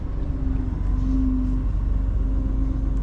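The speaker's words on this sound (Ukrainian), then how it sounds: "Зараз ми сюди заїдемо задом" A truck backs slowly into a loading spot, with a deep steady diesel rumble close by and a faint intermittent tone riding above it.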